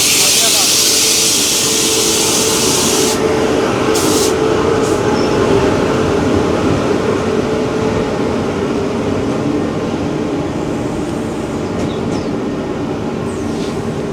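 A Kavach-fitted Sikkim Mahananda Express from Delhi thunders past at a crossing, making a loud, close, continuous rumble and rattle of wheels and cars that fills the whole stretch.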